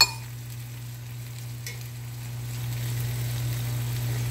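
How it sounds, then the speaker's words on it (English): Sauce added over browned pork in a hot pan gives a steady, even sizzle close by, with a low constant hum underneath and no talking. "I added the first batch back in, and now we're going to add the sauce."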